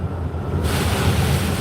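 Heavy rain and road spray roar around a moving truck on a wet highway, a loud broadband wash that swells suddenly and stays constant, with no voices.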